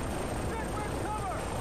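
A helicopter in the video game Far Cry 3 gives a steady, loud rotor and engine drone that fills the whole short stretch, with faint shifting whine tones riding on top.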